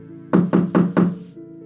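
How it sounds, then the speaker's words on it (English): Four firm, evenly spaced knocks on a door, loud and close, with a brief hum before and after. "only to wake up to the knocking again"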